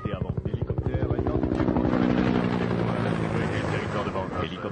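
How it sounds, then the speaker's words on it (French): A video game helicopter flies with a loud, rapid rotor chop that blurs into a dense, steady roar as it speeds up. "Je vais aller écraser l'hélicoptère sur le mont Banayo et je vais sauter avant."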